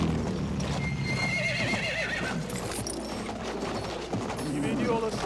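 A horse in Battlefield 1's Sinai Desert conquest map gallops with quick clip-clop hoofbeats and a whinny, amid mechanical clatter and game noise, loud and close.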